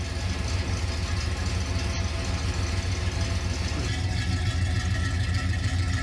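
A 1970 Pontiac Grand Prix SJ's V8 exhaust idles with a deep, steady rumble close by, its low burble continuous for several seconds.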